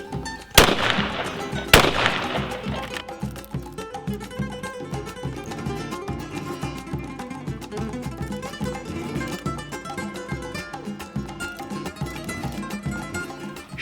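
Two sharp, loud blasts from a 20 gauge shotgun firing a reloaded hull, about a second apart near the start, followed by steady music for the rest.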